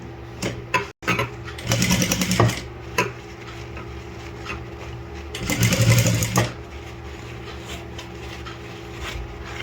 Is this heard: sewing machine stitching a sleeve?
yes